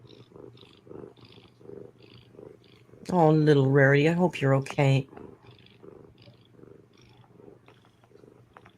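A pet cat named Rarity purrs close up in a steady, rhythmic low rumble that runs the whole time, with someone speaking loudly over it partway through.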